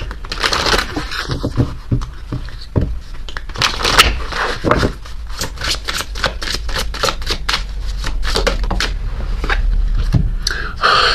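A deck of oracle cards is shuffled close up in a steady, dense series of crisp riffling snaps and papery rustles, loud and continuous with no talking.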